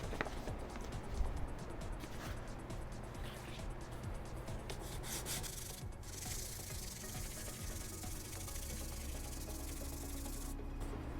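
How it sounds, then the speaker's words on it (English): Fine sandpaper rubs back and forth over a Boba Fett left vambrace piece in steady, close, even scratchy strokes that run continuously and fade in intensity near the end. "I'm going to go to a fairly fine sandpaper now."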